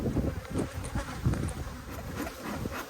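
Honeybees swarm around an open hive during an inspection, a dense, close buzzing that swells and fades in uneven pulses, with no voices.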